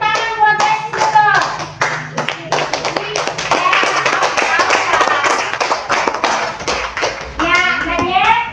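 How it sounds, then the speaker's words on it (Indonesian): Classroom of children clapping hands for a classmate, a close, loud patter of many sharp claps mixed with children's voices and chatter throughout. "boleh tepuk tangan buat Desi dulu."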